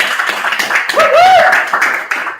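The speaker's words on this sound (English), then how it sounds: "So give them a hand clap." Scattered hand clapping for the team at a fireside chat gathering, uneven and moderately close, with a voice and a brief whistle-like tone rising in the middle.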